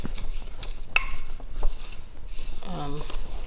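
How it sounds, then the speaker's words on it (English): A spoon stirring a homemade powdered laundry detergent mix in a container, giving a few quick scraping and clinking stirs close by with no talking. "we'll get a spoon and we'll just stir all that, really mix it up good"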